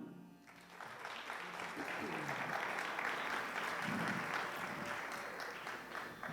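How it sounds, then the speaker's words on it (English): Audience applause fills a concert hall as a solo singer, Pranali, is welcomed onto the stage, a steady broadband clapping sustained for several seconds at moderate level. "let me welcome and give her a round of applause"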